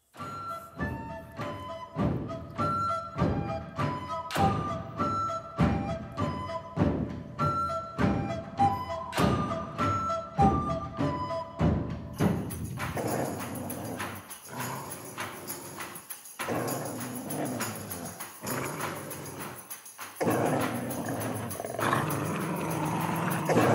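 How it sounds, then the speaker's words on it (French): Japanese taiko-style drums from the Isle of Dogs trailer score pound in a steady, heavy rhythm with deep booming hits, later giving way to denser orchestral music and sound effects, loud and continuous with no speech. "c'est des instruments de percussion japonaises qui font des grosses percussions"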